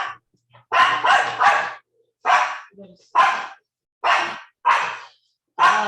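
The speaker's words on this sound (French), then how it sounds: "Ah, ma chienne." A dog barks in a series of about seven loud, close barks, a quick cluster of three followed by single barks spaced with short pauses, with a faint voice briefly between them.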